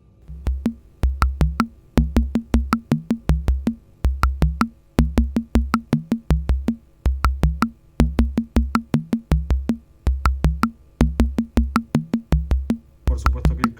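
A steady, looping electronic percussion pattern from a breadboard sequencer using an AT28C16 ROM, with short clicky hits and low thumps repeating in a tight rhythm, punctuated by bright ticks, with brief gaps between phrases.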